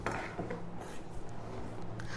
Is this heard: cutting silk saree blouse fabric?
yes